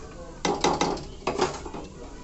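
A lid clatters onto a cooking pot holding a Bengali vegetable curry of beans, eggplant, potato and lentil dumplings, giving a few quick metallic clinks and a settling rattle, close by.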